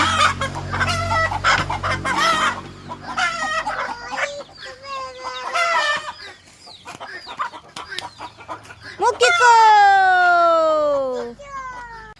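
Chickens cluck and squawk close by in uneven bursts, with a long drawn-out call near the end; a person speaks briefly in between.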